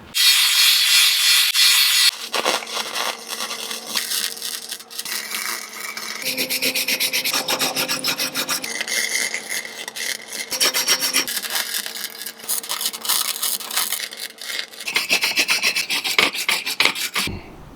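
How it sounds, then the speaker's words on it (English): A grinder removes welds from a metal bed frame that is being turned into a welding cart, producing a loud, harsh, continuous rasping that rises and shifts in bursts with no talking. "I'm going to grind them off"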